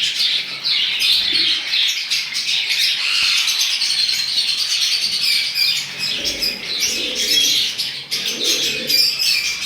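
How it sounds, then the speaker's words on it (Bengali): Cockatiels calling at a pet bird market stall among other caged birds. Continuous bright chirps and squawks, fairly loud and close, with overlapping calls and no talking. "next cockatiel"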